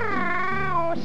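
A voice mimics a cat's meow, one long drawn-out, wavering cry that slides downward and ends abruptly, close and clear with no other sounds.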